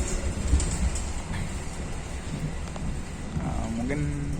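Interior of a KA Pasundan economy passenger train on the run, with a steady low rumble and broadband rolling noise throughout, a few faint knocks and a rising tone near the end.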